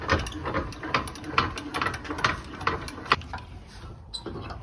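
A trailer jockey wheel wound down by hand, giving rapid, close ratcheting clicks of the winding mechanism for several seconds, with a brief pause near the end.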